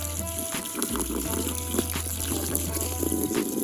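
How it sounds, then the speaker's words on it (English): Warm water poured out for chickens in winter, a steady trickling and splashing stream running through the whole moment over a low outdoor hum. "Here's some nice warm water."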